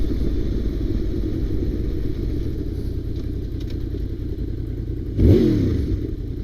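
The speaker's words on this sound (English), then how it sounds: "It's got like a boxer rumble to it." 2002 Honda VFR800 motorcycle engine while riding, a steady low rumbling drone with a brief rising rev near the end, heard continuously up close.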